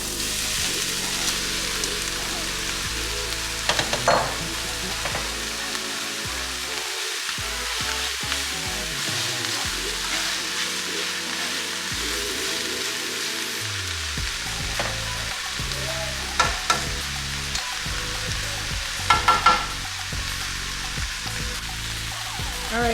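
Shrimp sizzle steadily in a hot pan for a Jamaican pepper shrimp dish. Occasional stirring scrapes and clatters sit over the frying, and faint background music plays with no one talking.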